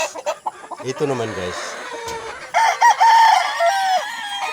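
A Roundhead gamefowl rooster crows at a farm, starting with clucking calls and then a loud, drawn-out crow. Background voices and other birds are faintly audible.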